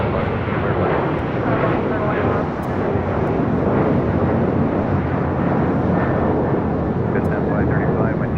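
A jet airliner lands on runway 25 left at LAX, a loud continuous roar of engine and air noise close by with no clear pauses, tower radio chatter faintly audible underneath.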